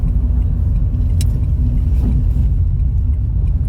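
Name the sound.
car driving at night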